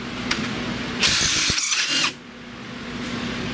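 A power tool drives a lower ball joint bolt on a Chrysler Sebring in one roughly one-second burst of close, high whirring, with quiet shop room sound before and after.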